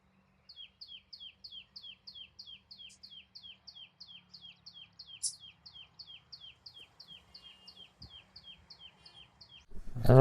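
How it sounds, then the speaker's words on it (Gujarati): A bird repeats a quick, regular chirping call over and over at a village farm, clear but moderately distant against a quiet rural background, ending in a sudden louder handling noise. "પક્ષીઓના કિલોલ વચ્ચે આપણે હવે રોટલા કરવા બેસી ગયા છે."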